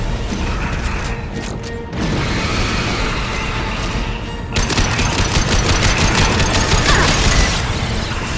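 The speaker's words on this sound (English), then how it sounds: "Firing a high-impact shot." A powerful high-impact shot fires in the Mass Effect trilogy on Xbox One X during a space battle against a Collector vessel, followed by a loud, sustained roar of heavy mechanical gunfire and crashing impacts.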